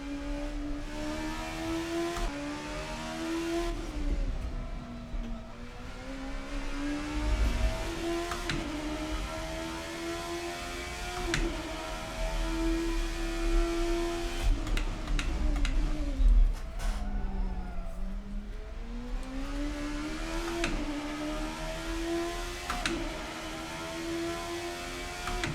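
Oldbac Kalana racecar in Assetto Corsa, its engine droning steadily and rising and falling in pitch through gear changes, loud and continuous for the whole stretch with no talk over it.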